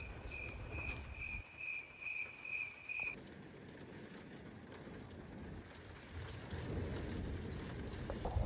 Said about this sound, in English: all I heard was crickets